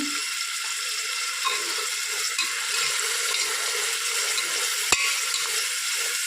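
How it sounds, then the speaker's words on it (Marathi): Chopped tomatoes sautéing in a pan for mutton curry give a steady, close hiss of frying with faint stirring scrapes and one sharp tap near the end, with no talking. "चांगलं परतून घ्यायचं टोमॅटो हे पण चांगलं परतून घ्यायचं"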